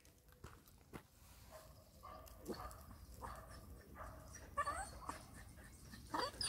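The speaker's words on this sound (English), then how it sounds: "There's nothing worse than barky dogs." Dogs whimper, yip and bark faintly at a distance, in a repeated, uneven pattern, with light shuffling footsteps nearby.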